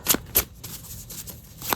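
Tarot cards being shuffled by hand, a few crisp riffling bursts with soft rustling between them, close and fairly quiet.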